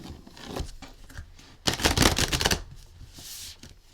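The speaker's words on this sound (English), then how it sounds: "I gotta give these a good shuffle." Cards riffled together in a quick burst of crisp ripping flutter, with lighter handling clicks before and after, close by.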